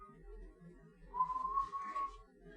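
A person whistles a single steady, pure tone for about a second, fairly close and clear over a quiet room with a soft low rumble.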